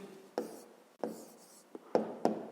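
A pen scratches out an answer in a school maths notebook, several quiet strokes in short bursts, close and faint with no talk.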